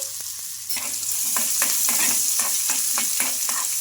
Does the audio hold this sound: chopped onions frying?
yes